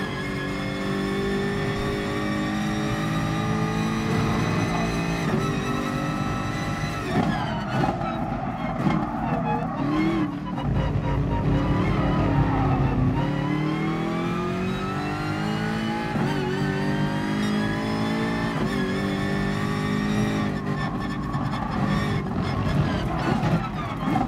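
GR.3 race car in Gran Turismo Sport at the Nürburgring, its engine droning loudly and continuously, revving up and down with rising and falling pitch through gear changes, with tire squeal mixed in over the whole stretch.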